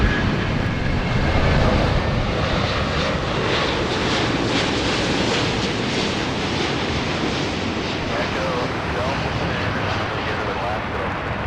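Virgin Atlantic Boeing 787-9 Dreamliner landing at LAX on the north side, a steady loud jet engine roar and rushing whine that holds throughout, heard from nearby at the airport.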